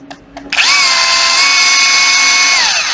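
A Makita brushless cordless drill spins up after a couple of faint clicks and runs at a smooth, steady high whine, loud and close, then begins winding down near the end.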